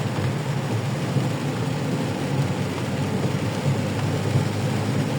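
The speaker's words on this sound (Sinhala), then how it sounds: "මොකද හොඳට මීදුමක් එක්ක උඩ වැස්සක් වහිනවා." Rain falls in mist near a mountain, a steady broadband wash with low rumble underneath, even and unbroken with no voices.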